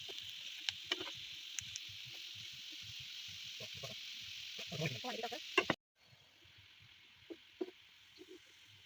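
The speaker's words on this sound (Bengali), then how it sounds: "এখন আলুগুলোকে আমি পেনে ভাজবো" Soft, steady sizzling of food frying in a pan, with scattered light clicks and stirring noises, dropping quieter near the end.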